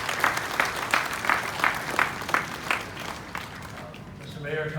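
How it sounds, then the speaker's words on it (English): A crowd at a Houston event applauds a VA benefits representative with about a dozen regular, rhythmic claps at moderate distance, fading toward the end as a voice begins. "Let's give him a hand of applause"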